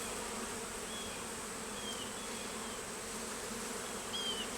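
Honey bees drone steadily around an opened beehive whose frames hold honey and brood, a dense continuous buzz close by with individual bees whining past now and then.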